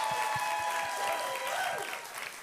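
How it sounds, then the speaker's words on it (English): A studio audience applauds the season premiere of a comedy talk show, steady, dense clapping that fills the room throughout, a few low thumps underneath, easing slightly toward the end. "this is the season premiere of season 2, which that is worthy of a round of applause"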